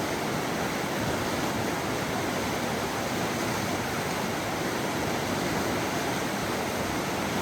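The Metolius River rushes through a canyon in a loud, unbroken broadband roar, close and constant with no voices.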